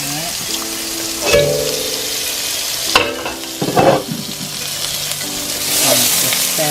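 Garlic, ginger and onion sizzle loudly in a pan for shrimp egg fried rice, with repeated scraping stir strokes and clacks of the spatula over a constant crackling fry, close and without talk.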